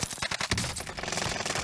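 Rapid automatic gunfire from a gun in Call of Duty Warzone on Rebirth Island, a dense burst of sharp cracks in quick succession, loud and close with no talking.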